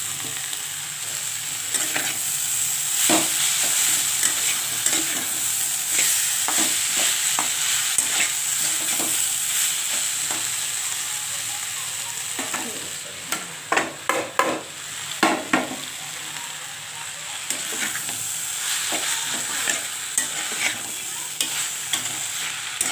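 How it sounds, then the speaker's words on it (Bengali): Kolmi and shushni greens frying with vegetables in a pan give off a steady loud sizzle, broken by repeated scraping strokes of a spatula, with no talking. "সবজিটার সঙ্গে আমি অল্প অল্প করে মিক্স করবো।"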